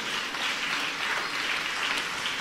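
Congregation clapping during a church preaching service, a continuous, even wash of hand claps heard from a moderate distance.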